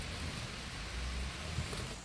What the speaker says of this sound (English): Due to excessive rainfall in Himachal Pradesh,